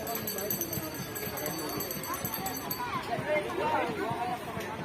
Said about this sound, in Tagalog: Ayun, kabayo.